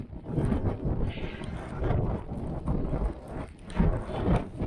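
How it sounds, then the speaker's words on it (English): Gusty wind at Elgol, Scotland roars steadily and buffets the microphone, a dense low rumble with rising and falling surges and no clear pauses. "And it's very windy."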